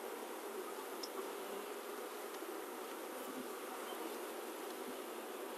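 Honeybees buzz steadily in an open hive with a double screen bottom board, a dense, even drone holding close and constant throughout without pause.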